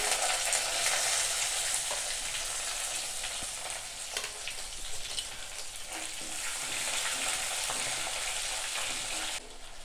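Onions and garlic fry in a pan as the base for a village-style fish curry, a continuous close hissing sizzle with faint stirring scrapes, fading abruptly at the end.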